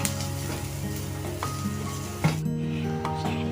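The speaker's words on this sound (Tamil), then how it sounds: "இப்போ நல்லா ஃப்ரை ஆகிடுச்சு பாருங்கள்." Idli podi ingredients dry-roasting in a heavy pan give a steady close sizzle and crackle, with occasional stirring scrapes and a brief metallic knock partway through.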